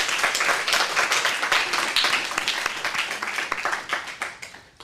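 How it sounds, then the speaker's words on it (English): Debate audience applauding after poll results are announced, a dense run of individual claps close by that thins and fades toward the end. "a round of applause before I make a comment"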